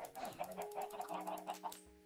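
Chickens in the video game Minecraft cluck in a quick run of short, repeated calls, fairly close and steady, with a light sustained tone running beneath.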